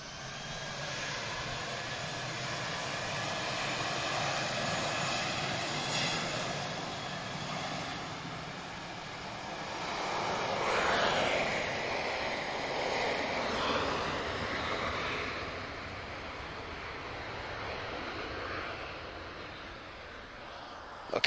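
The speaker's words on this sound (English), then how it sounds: "We've just got an A320 arriving from EasyJet." An EasyJet Airbus A320 arriving at Lisbon Airport makes a continuous jet engine roar that swells midway as it passes nearer, then eases slightly, with light wind noise throughout.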